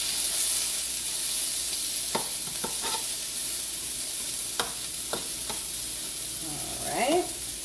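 Onions sweat and sizzle steadily in a hot pan, a continuous close hiss with a few sharp scrapes of stirring and a brief bubbling flare near the end.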